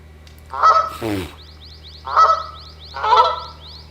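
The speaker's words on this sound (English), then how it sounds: "Now, them geese just flew off." Geese honk in the hunting video game theHunter: Call of the Wild, set in Salzwiesen Park. Three clear nasal honks sound at close range with pauses between them, and a lower rasping call comes in between the first two.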